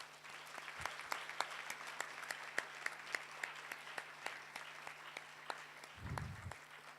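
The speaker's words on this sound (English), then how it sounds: "let us put our hands together to applaud our lecturers" Faint, sparse clapping from a graduation audience honouring their lecturers, individual claps standing out over a steady background hum, with a brief low thump near the end.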